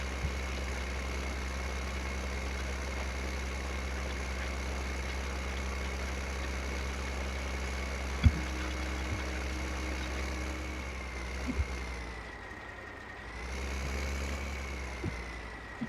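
A tractor engine idling in the video game Farming Simulator 15, a steady low drone with a constant high whine on top, a few faint clicks and a brief dip in level near the end, with no talking.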